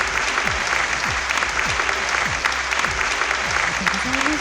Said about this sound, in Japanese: 第1部のパネリストの皆様に今一度どうぞ大きな拍手をお送りください。